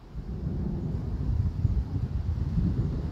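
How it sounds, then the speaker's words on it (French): Steady low rumbling wind gusts buffet the microphone during a moderate September thunderstorm with heavy rain, a continuous dull roar with no voices. "Il me semble que c'est le vent."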